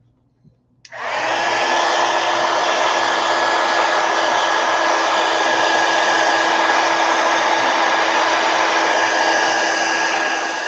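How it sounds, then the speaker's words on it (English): Heat gun blown over wet ink on a drawing: after a moment of quiet it switches on and roars as a loud, steady rushing whoosh that continues unbroken to the end. "I'm going to hit it with a heat gun real quick"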